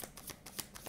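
Tarot cards being shuffled and handled during a reading, a quick series of soft papery flicks and slides, close and quiet.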